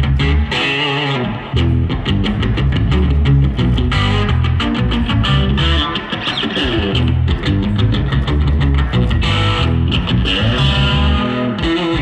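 Electric guitar played through a Koch 'The Greg' combo amp, 50 or 25 watts with two 10-inch speakers, heavily distorted and effected, loud and continuous with busy riffing, no talking over it.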